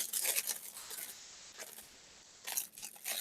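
Several short crisp snips as polymer clay lily pieces are trimmed at the ends, quiet and close, with brief pauses between the cuts.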